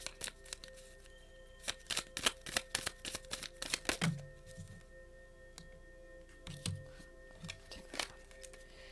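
Tarot cards are shuffled in quick riffling bursts of crisp clicks, then a few softer, scattered shuffles.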